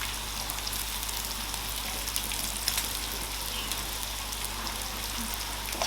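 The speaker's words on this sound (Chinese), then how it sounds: "这块五花肉，哇，看起滋滋冒油。" Pork belly sizzles on a grill, an even hissing crackle with dense spitting fat held at a steady level throughout, and no one speaking.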